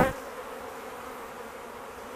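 A brief burst opens into a steady, faint hum of buzzing honey bees being swept from a hive, continuous and close.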